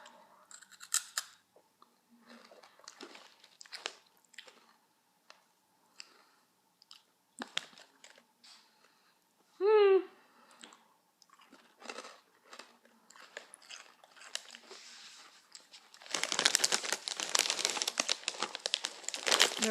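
Close crunching and chewing of Flaming Hot Cheetos with scattered clicks and a brief vocal sound midway, ending in a loud burst of plastic bag crinkling.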